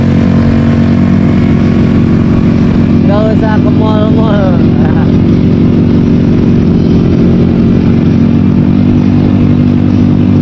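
Motorcycle engine on a Sunday morning group ride in BSD, a loud constant close rumble that runs throughout while people talk over it.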